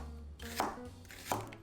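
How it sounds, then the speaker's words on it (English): A knife chops a peeled shallot on a cutting board for a French-style tomato sauce, two crisp, evenly spaced thuds close up, with no talking. "the next ingredient for this French style sauce, a shallot. Remove that skin and you can just chop it up any way that you like"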